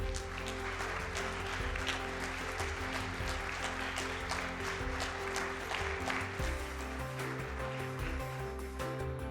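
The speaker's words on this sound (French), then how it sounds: "je vous invite à faire une ovation à Madame Nicole El-Karoui" A large audience gives an ovation to Nicole El-Karoui at a women-in-science ceremony, sustained dense clapping that holds steady throughout with a low hum underneath.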